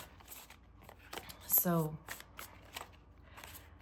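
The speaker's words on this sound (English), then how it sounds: "let me just shuffle a couple more times here" A tarot card deck being shuffled, a brief riffling burst of cards in the middle of a quiet stretch, with a person speaking softly around it.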